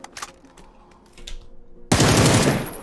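Automatic gunfire in PUBG while shooting an enemy: a few faint clicks, then a sudden loud, dense burst of rapid shots that continues to the end.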